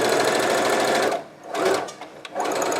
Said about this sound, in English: as I approach the corner, I'm going to slow down so I can place my needle right in the corner